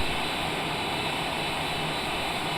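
Cessna Citation Longitude business jet on landing approach, a steady broadband jet engine roar heard from inside the aircraft.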